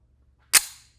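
A single sharp shot from an M1911A1 pistol, the .45 sidearm of British Commonwealth forces, cracks loudly and close, then decays over a short tail into silence.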